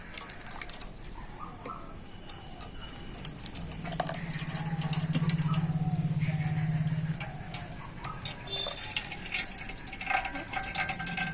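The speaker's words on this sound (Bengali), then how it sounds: "এবার আমি এই পেস্ট করা আলুটা এই ছাঁকনি দিয়ে কিন্তু ছেঁকে নেব" Watery raw potato paste trickles through a sieve outdoors on a rooftop, a soft splashing drip and patter with light taps, a low gurgling swell in the middle, and birds faintly around.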